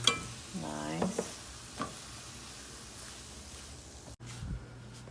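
Sliced potatoes and peppers coated with paprika are stirred in a pan. There are a few scraping, shuffling strokes over a low sizzle, and a brief voice-like tone near the start.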